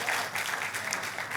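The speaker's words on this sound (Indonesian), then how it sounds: "Tepuk tangannya yang paling meriah, tepuk tangannya pula yang paling meriah buat Tuhan kita." A church congregation claps during a worship service, a brief and fairly soft burst of steady applause.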